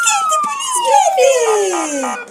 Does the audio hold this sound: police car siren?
yes